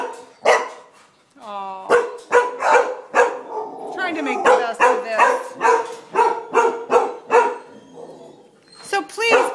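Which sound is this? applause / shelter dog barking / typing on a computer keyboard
shelter dog barking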